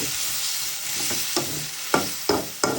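Surma fish with pointed gourd sizzles steadily in a pan while a spoon stirs it, with four or five sharp scraping strokes toward the end, close and fairly loud.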